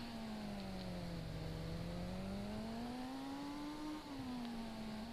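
A Kawasaki Ninja H2R motorcycle engine in the game Indian Theft Auto Simulator whines at a steady high pitch, its tone gently rising and falling like a sustained rev, with a synthetic, game-like smoothness.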